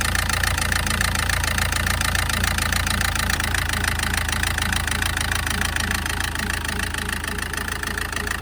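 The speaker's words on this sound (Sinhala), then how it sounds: "වාහනේ ඉන්ජෙක්ටර් බැලන්ස් නැති හින්දා එන්ජිම ගැස්සෙනවා." Diesel engine idles roughly and unevenly, shaking from unbalanced faulty injectors, a continuous loud rattling clatter with a deep rumbling drone, close by and without pauses or speech.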